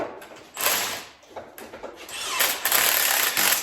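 A 3/8 impact gun tightens bolts on a Jeep TJ during an LS swap, firing in several short, rattling bursts with brief pauses between them, fairly close.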